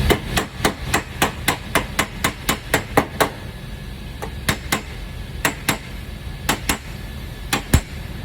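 Metal panel clangs under repeated hammer blows during metal finishing, a quick steady run of about a dozen strikes, then slower, uneven hits, close and sharp.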